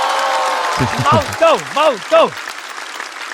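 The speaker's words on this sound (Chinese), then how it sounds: "掌声送给毛豆。" A stand-up comedy show crowd applauds and cheers for comedian Maodou, a broad wash of clapping running throughout while a loud voice calls out over it in the middle.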